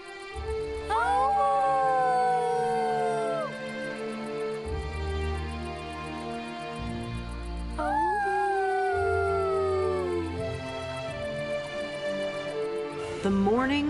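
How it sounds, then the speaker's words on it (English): A dinosaur and a dog howl together in a storybook sound effect, with long rising and falling wavering howls in two main bursts over music-like background, loud and close. "He and Spot looked up at the stars and howled together."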